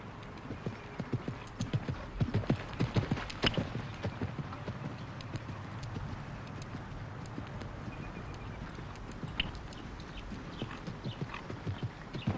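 Polo ponies' hooves clip-clop steadily across the field, with an occasional whinny, loudest early on and continuing at a mid distance throughout.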